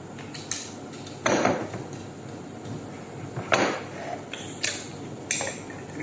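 Salad dressed with lemon juice and olive oil being tossed in a bowl, with several distinct clattering scrapes of utensils against the dish spaced through the mix over a quiet background.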